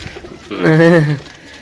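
A single close, rich coo from a Dera pigeon at a pigeon seller's lot swells for about half a second in the middle, with quiet background before and after.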